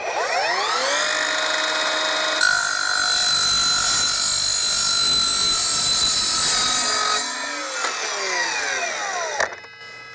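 An Evolution R255SMS-DB-Li cordless miter saw spins up with a high whine, then its blade grinds steadily through steel pipe for several seconds before winding down, loud and close.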